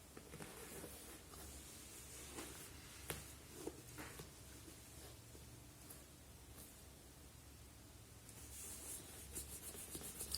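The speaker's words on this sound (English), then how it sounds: "you can rub as well back and forth vigorously, bringing some heat into the toes" Hands rubbing back and forth vigorously over bare feet and toes, making a steady, close, broadband swishing friction sound with slight surges in intensity and no talking.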